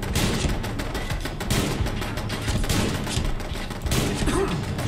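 Dense, continuous gunfire from the game Fallout London, with rapid overlapping shots and thuds that stay loud and close throughout.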